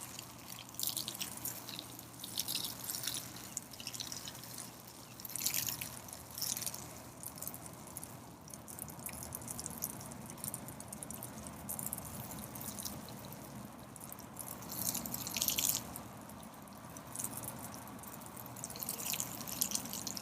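Water dripping and trickling steadily as a wildcat bathes, soft liquid splashes and drips continuing close by throughout with no talking.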